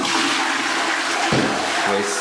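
A toilet flushing in a private bathroom of a London flat, a broad wash of rushing water running steadily throughout with a brief gurgle near the end, heard close and fairly loud with no talking.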